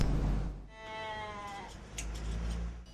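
A bleating sheep from a flock on a mountain farm in Türkiye, one wavering drawn-out call rising clearly above the outdoor background noise and low wind rumble.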